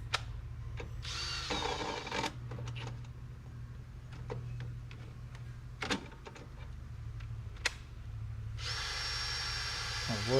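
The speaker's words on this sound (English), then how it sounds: "As soon as there's a little bit of weight on the drill, it stops, and it shouldn't." A cordless drill stalls under load while removing a Tommy Camper canopy from a ute tray, giving short whirring bursts that cut out repeatedly amid a low steady hum, with a voice talking in places.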